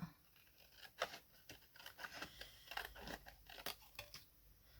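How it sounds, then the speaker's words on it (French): Scissors snip through folded paper near its creases to cut tabs for a paper advent calendar, a series of quiet, crisp cuts with faint crinkling between strokes. "On va couper à quelques centimètres des 2 plis qui nous restent ici."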